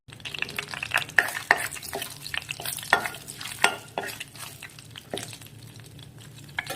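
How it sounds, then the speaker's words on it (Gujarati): Bay leaf and cinnamon sizzle in hot butter for a simple tempering for a restaurant-style paneer curry, with a steady low frying hiss broken by frequent clinks and scrapes of a spoon stirring in the pan. "હવે આપણે એમાં વઘાર માટે તમાલપત્ર અને તજ લેવાનો છે અને સિમ્પલ જ વઘાર કરવાનો છે"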